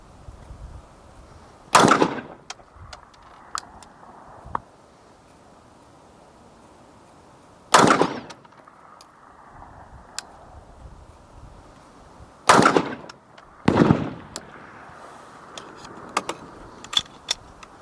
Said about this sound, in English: I'm actually gonna try shooting it like this.